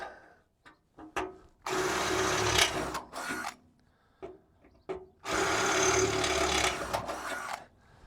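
A drill with a 5.5mm bit whirs through material in two long bursts, widening holes, separated by scraping, tapping and handling noises, close and fairly loud.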